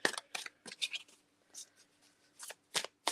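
A tarot card deck is shuffled in quick, crisp bursts of riffling and sliding cards, separated by short pauses, soft and close with no speech.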